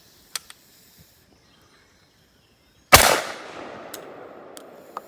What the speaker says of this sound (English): CBC single shot 20 gauge. We've got 12 pellets of single lot buck.